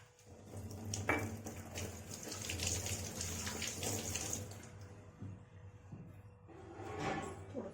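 Water streams into a masala paste for a homemade spicy chicken curry, a steady close pour lasting several seconds before trailing off, then a brief second trickle.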